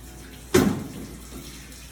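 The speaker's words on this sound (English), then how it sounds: "you simply want to drain the water." Water gushes out through the opened drain valve of a Royal commercial fryer into a filter tub after a boil-out, a sudden splashing burst that quickly settles into a quieter trickle.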